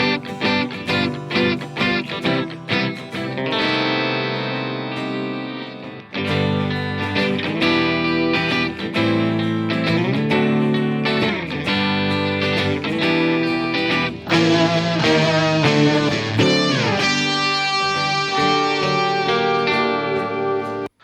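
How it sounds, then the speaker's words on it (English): Layered electric guitars in a mix with most effects and smart EQ switched off, a dense, loud, continuous stretch of chords and sustained notes with rhythmic stabs early on and a brief dip near the six-second mark. "So this is what the guitars would sound like without kind of the smart EQ and a lot of the effects off."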